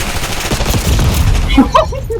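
Call of Duty Black Ops 6 gunfire crackles in rapid, dense bursts, loud and close, and a voice speaks briefly as the shots fade out.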